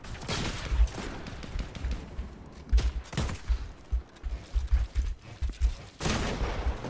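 Fortnite gunshots crack in repeated bursts and single shots, some close and sharp and others quieter, spread unevenly across the stretch with no talk.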